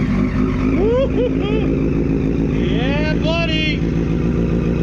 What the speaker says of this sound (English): Let's start the bike up. How's that sound?